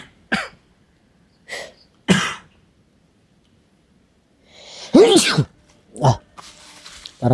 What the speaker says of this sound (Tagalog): Ako din, may ubo ako.